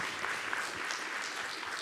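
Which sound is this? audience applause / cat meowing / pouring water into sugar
audience applause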